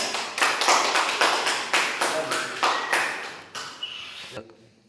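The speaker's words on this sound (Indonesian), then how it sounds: "Tepuk tangan untuk Syakir." Handclaps in a classroom for a student presenter, a run of separate sharp claps in a slightly irregular rhythm, loud and close, thinning out and stopping near the end.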